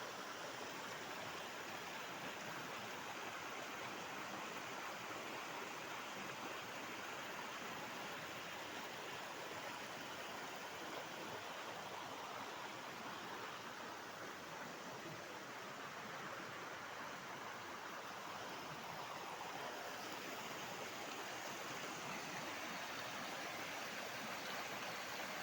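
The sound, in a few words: river water flowing in Konkan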